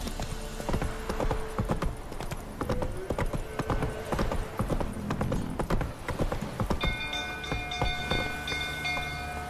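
A horse gallops in The Witcher 3, its hooves pounding out a fast, steady clip-clop close by for the whole stretch, with a short whinny and some game ambience mixed in.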